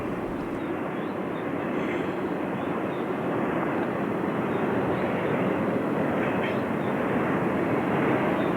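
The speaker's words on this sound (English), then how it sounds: "Another train at milepost 129 is an auto rack train." An auto rack freight train on the Boston & Albany line rumbles past at milepost 129, a steady broad roar that grows slightly louder toward the end, with no talking.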